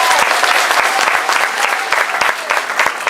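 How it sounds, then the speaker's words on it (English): Meeting attendees at a Kenyan demographic and health survey session clap together, a loud, dense, continuous round of applause with sharp individual claps standing out throughout. "can you clap for them?"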